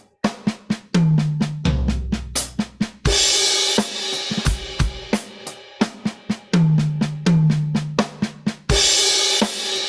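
A drum kit plays a fill built on flam kick triplets with changed orchestration: rapid, loud bursts of snare, toms and kick moving around the kit, interspersed with crashing cymbals, alone without speech.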